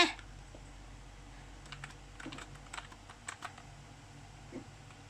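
A computer keyboard being typed on produces faint, scattered clicks and taps over a steady low room hum, with no voices.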